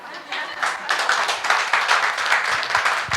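Congregation at a Tamil church sermon clapping hands together, a steady rhythmic patter of many palms filling the room, moderately loud with no voices over it.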